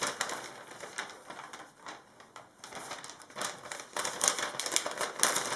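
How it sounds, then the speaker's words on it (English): Tape is pulled and pressed along the sides of a tall, skinny soap mold, a close series of crackling, sticky rips and taps in uneven bursts, with no talking. "and you tape the sides."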